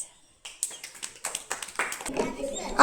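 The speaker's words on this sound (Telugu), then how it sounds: "Very good, claps." Children clapping in a classroom activity, a quick run of sharp, close claps following one another in an uneven rhythm, with a short burst of voices near the end.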